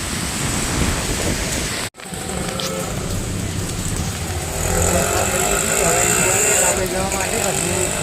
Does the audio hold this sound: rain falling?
yes